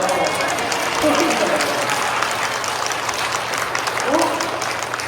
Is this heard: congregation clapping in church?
yes